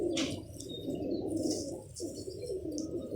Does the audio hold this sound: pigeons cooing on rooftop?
yes